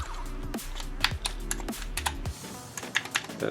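Commodore 128 keys clack and tap in quick irregular bursts as the keyboard is put back together, close and fairly loud over a steady low hum, with no talking.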